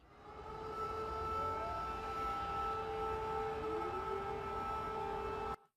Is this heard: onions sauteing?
no